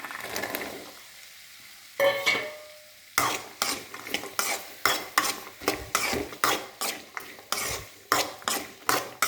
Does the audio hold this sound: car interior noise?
no